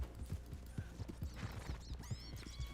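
Horse hooves in the video game Red Dead Online clip-clop in a brisk, regular rhythm, close and distinct, over a low hum with faint bird-like chirps.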